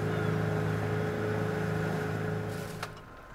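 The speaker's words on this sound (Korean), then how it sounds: "잔잔하던 연화도 앞바다가 거친 모터 소리에 들썩입니다." A fishing boat's motor runs off Yeonhwado island near Tongyeong, a loud steady engine drone with a constant hum and rough throb that eases toward the end, with a brief knock near the close.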